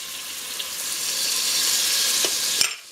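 Mushrooms, celery, onion and garlic cook in melted butter over medium heat for a creamy wild rice and chicken soup, a steady close sizzle that swells slightly, with a single sharp clink near the end and no talking.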